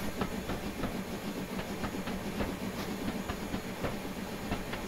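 Machine Rail EFCB 0-8-8-0 locomotive running in Train Simulator Classic, a steady rumbling train sound with rhythmic clickety-clack wheel beats and soft hiss, constant and fairly close, with no talk.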